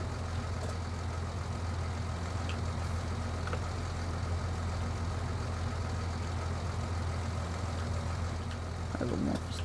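A tractor engine idles steadily in a farming simulation game, a constant low drone that holds alone throughout with only faint clicks on top.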